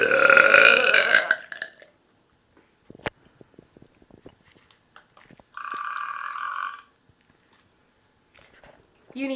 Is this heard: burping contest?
yes